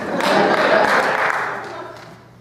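An audience at an alumni improv comedy show breaks into applause, a broad wash of clapping that swells, holds and then fades away, with no talk over it.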